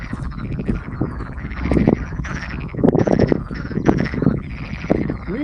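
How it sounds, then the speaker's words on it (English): Many frogs croaking together in a small pond in a dense, pulsing chorus, with overlapping calls rising and falling close by. "I think those are a bunch of frogs"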